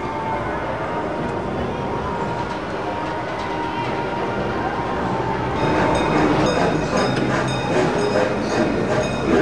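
An amusement park train at Busch Gardens Christmastown rumbles past with steady clickety-clack and some wheel squeal, growing louder and closer toward the end, with crowd noise in the background.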